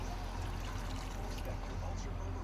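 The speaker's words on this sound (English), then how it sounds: "Go ahead and add just a little bit of water." A small amount of water, about a quarter cup, poured into a cooking pot on a shanty boat during Cajun cooking, a soft steady trickle under a continuous low hum throughout.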